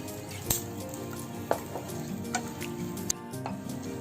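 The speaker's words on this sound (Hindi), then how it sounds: "देखिए हमारी ये खरबूजे की गिरी फूल गई है और इसमें से आवाज आने लग गई है" Melon seeds roast in ghee with a steady close sizzle, broken by a few sharp pops and crackles as the seeds puff up.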